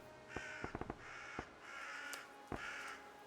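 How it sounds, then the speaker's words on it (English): A crow squawks in a video game: a loud burst of harsh caws, a quick cluster of clipped calls, another caw, then one more call near the end, over a steady ambient bed. "Did you hear the strange sound earlier? Sounded like a loud squawking."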